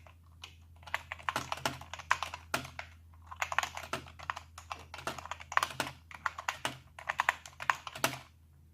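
Keys clatter on an Enhance GX-K3 computer keyboard in quick bursts of close, crisp typing separated by brief pauses, over a low steady hum and with no talking.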